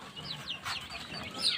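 Hens on a farm give a few short, soft clucks and murmurs over faint background noise, at close range.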